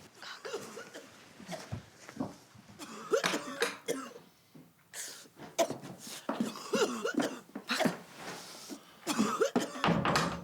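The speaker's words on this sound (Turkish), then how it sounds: "Çok fena öksürüyor deyin" Repeated bursts of coughing over about ten seconds, harsh and fairly close, with brief pauses between fits.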